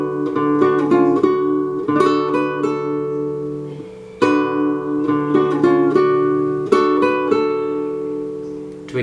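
Guitar plays a bar of a song, with quick plucked melody notes over a steady bass in clear phrases. The instrument is close and alone, at moderate loudness.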